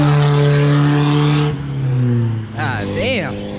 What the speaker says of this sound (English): Got the little Mazda truck zooming.